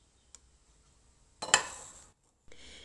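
A pan of cooked rice and peas comes off the heat with a clattering scrape of metal, a brief clink beforehand and a faint hiss afterward in a quiet kitchen.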